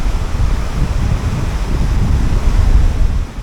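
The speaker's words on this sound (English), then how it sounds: "Cracking little waterfall there. Nice little step down one, isn't it?" A small step waterfall on the Great Glen canoe trail near Loch Ness gives a steady, loud rush of tumbling water, mixed with wind buffeting the microphone, with no voices.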